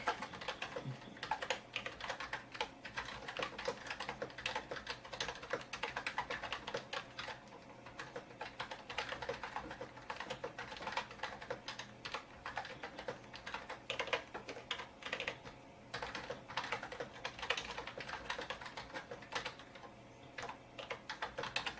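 Rapid, steady keystrokes clatter on a no-name computer keyboard attached to a Pentium 1 MMX machine, close and continuous with no talking.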